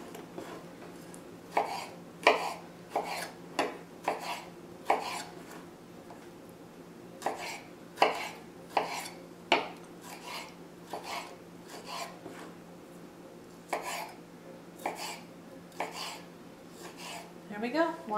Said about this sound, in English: So we're just going to do a rough chop here